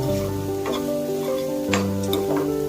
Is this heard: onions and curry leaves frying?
yes